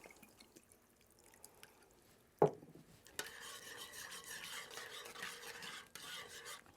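Butter and a splash of vinegar being stirred into a chicken marsala sauce in a pan: a sharp clink, then a soft continuous sizzle with scraping spoon strokes, close and fairly quiet.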